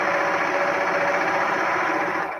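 A serger stitches fabric strips for a jelly roll quilt, a fast, steady mechanical whir close up that runs continuously before slowing at the very end, with no talk.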